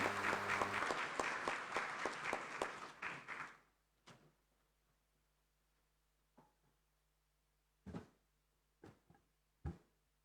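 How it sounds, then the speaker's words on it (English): Audience applause at the close of a speech in an African parliamentary-style gathering, a dense burst of clapping for about four seconds that fades out, followed by a few sparse knocks and thumps in a quiet room. "Please, another round of applause for Dr. David Odenga."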